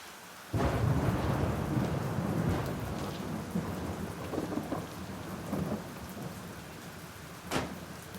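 Thunder rumbles in with a sudden loud onset, then steady heavy rain hisses on surfaces with rolling low grumbles and a sharp crack near the end.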